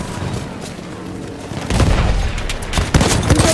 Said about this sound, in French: Une nouvelle mitrailleuse.